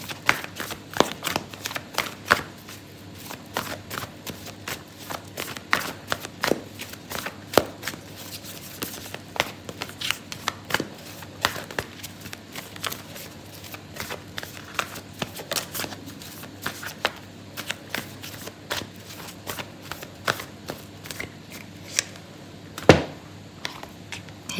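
A deck of oracle cards is shuffled during a Cancer love tarot reading, giving a steady run of soft riffling flicks and taps close by with no talk over it, ending in one sharper snap near the close.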